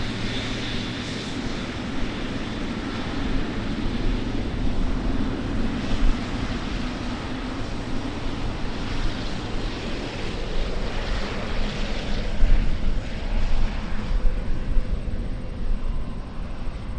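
A Boeing 777 taxiing along an airport high-speed taxiway gives off a steady, loud jet engine rumble and whine that swells slightly and drifts, heard alone without talk.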